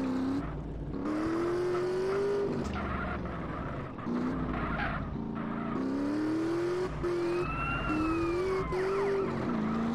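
Police car sirens in GTA San Andreas wail continuously in rising and falling sweeps, loud and close over a car engine during a chase, with a second siren joining toward the end.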